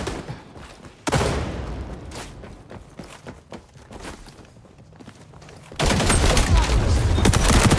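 Gunfire in the shooter game XDefiant, with bursts of rapid shots and impacts, loud near the start and rising again to a dense sustained volley at the end, with footsteps in between.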